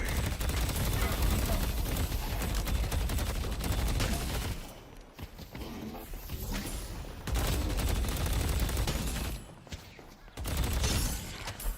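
Sustained, dense gunfire in the hero shooter video game Deadlock, loud and continuous bursts that drop out briefly mid-clip and resume, with a short pause again near the end.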